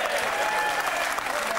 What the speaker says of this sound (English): Round of applause for Finchie.